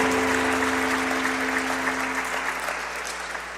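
A church congregation claps together in a full, dense burst of applause that gradually thins and fades, with a low steady hum underneath.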